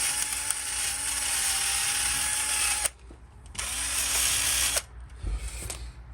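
A wire wheel scrubs loose rust off the hub edge of a Land Rover Discovery TD5 front differential. It gives two long, loud, close grinding whirs that cut off abruptly, followed by a brief clatter.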